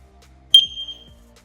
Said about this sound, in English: this detector is working because you heard a beep.